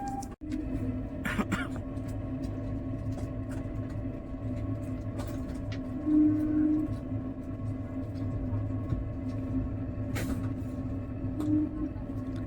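The Rajdhani Express on the New Delhi–Sealdah run, at Bardhaman Junction, produces a steady low rumble and hum heard from inside, with a faint sustained tone and occasional clicks.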